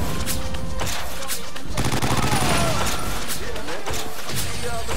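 Rapid bursts of gunfire from the video game 50 Cent: Blood On The Sand, with repeated shots and automatic fire crackling loudly throughout, heavy and dense, mixed with game effects and talk.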